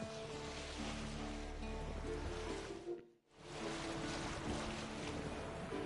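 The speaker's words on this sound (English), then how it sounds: "Sails fluttering." A sailing boat moves across open water in The Witcher 3 video game, a steady wash of waves and wind with a dense hiss and low rumble, briefly dropping almost to silence midway before returning.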